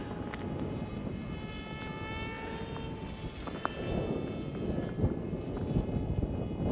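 A Stealthwings model airplane cruises at just over quarter throttle, giving a steady, moderate engine whine with some wind noise that grows slightly louder toward the end.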